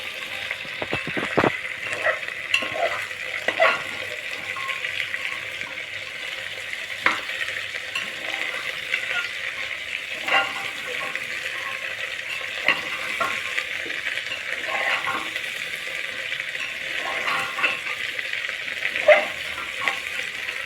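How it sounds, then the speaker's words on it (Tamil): Cauliflower sizzles in a hot frying pan while being stirred, with a steady frying hiss and intermittent scraping and clinking of a utensil against the pan, close by and without talk. "கொஞ்சம் பிரட்டி விட்டுக்கோங்க காலிஃப்ளவரை"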